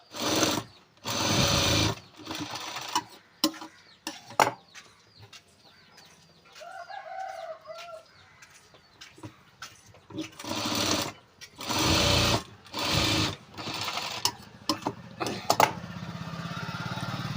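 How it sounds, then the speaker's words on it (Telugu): Sewing machine stitching a blouse at home, in loud bursts of rapid mechanical whirring that start and stop repeatedly, with a rooster crowing faintly in the background between runs. "ఇంకా మాట్లాడుకుంటూనే నేను బ్లౌజ్ అనేది కుడుతున్నాను"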